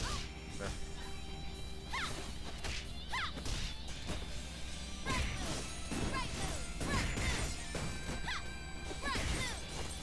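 Keyboard keys banged hard and fast while playing the fighting game Xuan Dou Zhi Wang, giving repeated sharp clacks and thwacks in uneven bursts over steady game sound, with faint talk at times.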